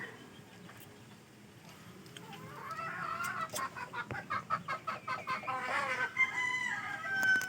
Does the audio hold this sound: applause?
no